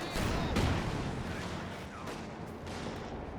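Grenade blast in the real-time strategy game Company of Heroes 2, a loud burst of explosive rumble with scattered gunfire crackling through the battle din.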